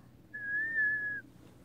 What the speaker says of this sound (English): Barbie has a whistle.